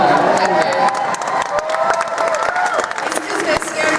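A convention audience at a 2018 Star Trek event cheers and applauds loudly, a dense, steady wall of clapping and whoops that fills the room without letting up, with voices mixed into the crowd noise.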